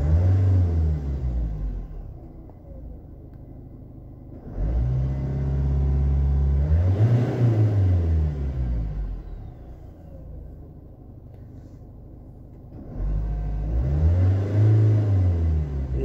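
The 2.0 HDi diesel engine of a Citroën Jumpy 3 van rumbles at idle, then is revved up three times with surging rises and falls, loud and close, with no talking.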